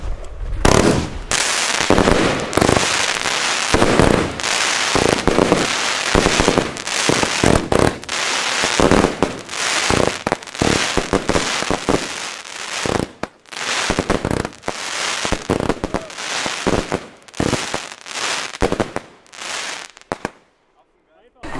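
A Double Deck Red firework battery goes off on a street at New Year's, firing a long, loud run of rapid crackling bangs in dense clusters with brief pauses, before fading to quiet at the end.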